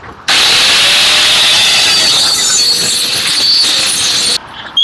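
A power tool cuts through a grille on an International B414 Turbo tractor with a loud, steady, harsh roar that runs for about four seconds and then abruptly stops, close up and with no talk.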